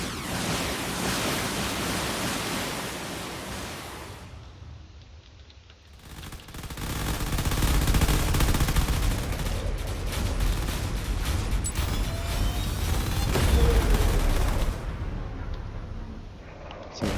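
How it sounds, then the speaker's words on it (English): Missiles launch and fire in a drone battle video game, sounding as loud, dense rushing and crackling volleys that swell and fade with brief drops to near silence between barrages. "Now here comes all the missiles."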